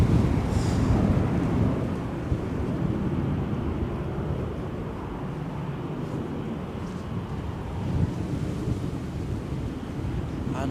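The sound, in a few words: airplane taking off in strong wind at Edinburgh Airport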